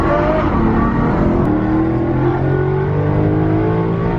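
A Chevrolet Corvette C5 V8 engine revs loudly and up close after two years in storage, its deep roar climbing steadily in pitch through one sustained acceleration.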